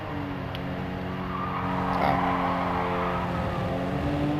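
A Supra race car in Gran Turismo 7 slides and skids, tyres squealing over a steady engine drone that swells slightly midway, heard alone.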